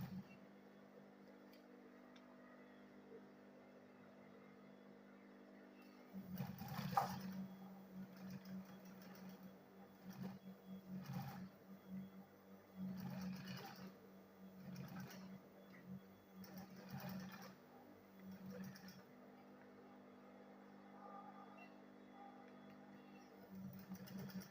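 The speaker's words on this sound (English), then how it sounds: "So I will sew it this way now" A sewing machine stitches leather for a school bag in a quiet room, running in several short bursts of rapid mechanical chatter over a steady low motor hum, with pauses between runs.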